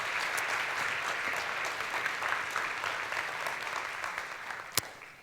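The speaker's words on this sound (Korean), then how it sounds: "박수 한번 안 주십니까?" Audience applause at an ING MDRT Day insurance seminar in a hall, a steady dense wash of clapping that holds throughout, with a sharp single crack near the end.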